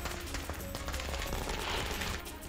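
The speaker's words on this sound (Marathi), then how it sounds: "यावेळी फटाक्यांची आतषबाजी करून कार्यकर्त्यांनी आनंद व्यक्त केला." Firecrackers burst during a celebration by activists of an organisation in Latur, a dense, rapid volley of sharp cracks and pops rattling continuously at moderate loudness.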